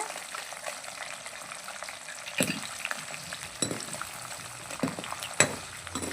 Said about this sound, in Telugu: మాడిపోకుండా చక్కగా ఫ్రై చేసుకోవాలి మంచిగా మంచి బ్రౌన్ కలర్లో ఫ్రై అయితే అయిపోయాయి కదా